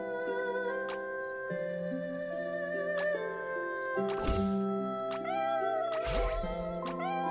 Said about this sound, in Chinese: 这有猫咪耶，猫咪也可以捡钱树。